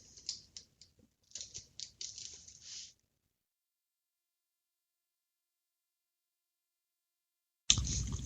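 A quick flurry of soft keyboard clicks for a few seconds, then silence, followed by a sudden burst of noise at the end.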